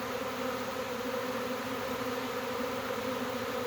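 A honey bee swarm buzzes in a dense, continuous drone, close and steady, with no voices over it.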